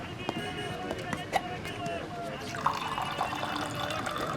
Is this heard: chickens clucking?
no